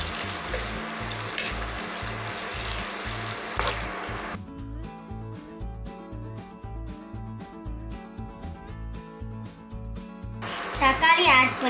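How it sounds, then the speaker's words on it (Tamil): Onions sizzle and get stirred in hot oil with biryani spices for a prawn biryani, a steady frying hiss with scraping that continues as background music comes in midway and fades again. "ஆனியன் போட்டதுக்கு அப்புறம் நல்லா கிண்டிக்கலாம்"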